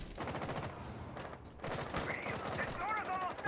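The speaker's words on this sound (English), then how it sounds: "Why did he shoot me?" Rapid gunfire crackles in a Ubisoft shooter video game as a dense burst of repeated shots, close and loud, broken by a short pause, with voices talking over the shooting.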